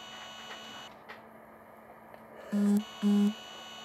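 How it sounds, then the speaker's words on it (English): A phone vibrates twice in quick succession, two short buzzing pulses close by over a quiet room hum. "Phone vibrated."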